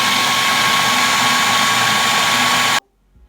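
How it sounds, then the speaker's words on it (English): A food processor grinding ladoo ingredients, a loud, steady whirring motor held for nearly three seconds before cutting off abruptly, followed by faint handling noise. "So I'm gonna add half of this to my food processor"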